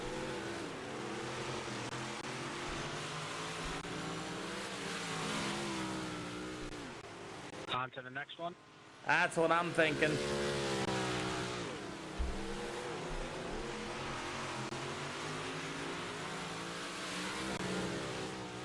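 Several race cars in a sim racing game drone and rev steadily throughout, their engine notes layered and continuous, with a brief dip midway; someone talks over the engines.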